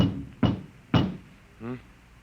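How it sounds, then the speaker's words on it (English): Two sharp knocks on a door as a sound effect in a 1950 radio drama, loud and close and spaced about half a second apart, followed by a short voiced sound. "There was a knock on the door."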